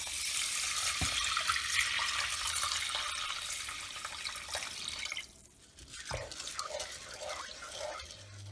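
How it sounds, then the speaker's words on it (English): Regular tap water poured into a pot holding uncooked rice, a continuous splashing pour with a few drips, fairly close and fading briefly before resuming. "then I'm going to put just 4 scant cups, so about 800 mils of just regular water in here."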